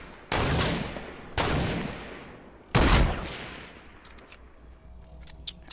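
Three sharp, separate gunshots from an enemy in Fortnite: Battle Royale ring out about a second apart, each tailing off in a reverberant decay, followed by faint clicks and small game noises.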